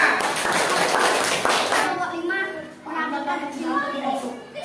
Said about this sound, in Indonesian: tepuk tangan kelompok 4.